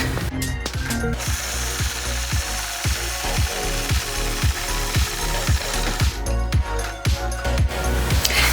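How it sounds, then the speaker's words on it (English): A quilting machine stitching a curve along a Sway ruler on a scalloped border, loud close rapid mechanical thumping at a steady rhythm of a few stitches per second, with a whirring motor underneath and no voices. "I'll engage my machine and then apply gentle pressure and stitch around this curve"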